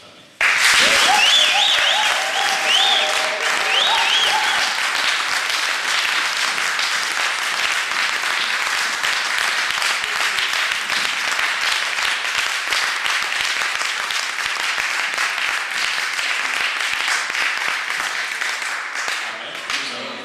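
A church congregation breaks into loud, sustained applause that fills the room and continues steadily, with some cheering voices mixed in near the start.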